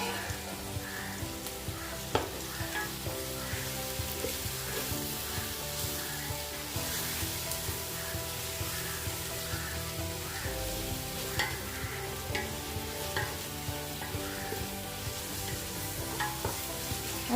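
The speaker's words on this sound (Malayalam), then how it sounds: "അതിട്ട് കൊടുക്കാം. അതിനുശേഷം നന്നായിട്ട് വഴറ്റിയെടുക്കാം." Four chopped tomatoes sautéing in a pan for chicken kurma, a steady broad sizzle and fry with repeated stirring scrapes throughout, close and fairly loud, with no talking.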